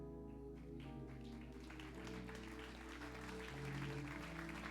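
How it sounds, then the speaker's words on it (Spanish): A church congregation claps steadily, a soft and continuous patter mixed under sustained music from the service. "Fuerte la ofrenda de palmas para el Señor."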